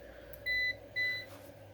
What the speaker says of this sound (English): Why does it keep beeping?